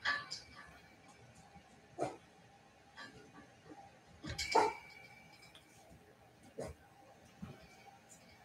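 Cavalier puppies playing indoors give a few scattered short barks and yips with faint whimpers between them. The sounds are moderately close, and soft household clatter and brief speech are also audible.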